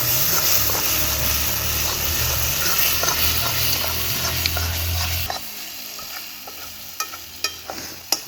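Ground spice paste goes into a frying pan for Dak Bunglow chicken curry and is stirred, steady loud sizzling that drops away partway, followed by scattered scraping clicks of the spoon against the pan.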